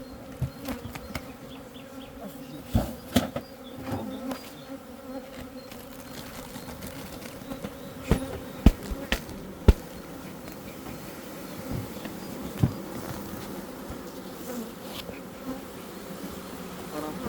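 A dense swarm of bees buzzes steadily up close, a continuous droning hum with occasional louder knocks and bumps.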